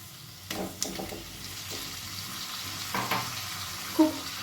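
Egg appe being gently mixed into egg curry frying in a pan, soft stirring and scraping over a steady low sizzle, with a few louder clunks of spoon against pan, close and moderately quiet, no talk.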